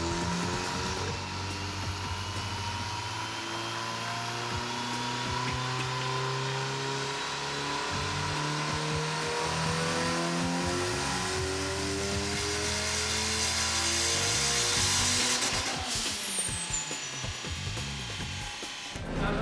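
A supercharged and turbocharged 1.6 liter street car engine making 314 wheel horsepower revs up and down repeatedly, loud and close, its pitch rising and falling in waves before a sharp final sweep near the end.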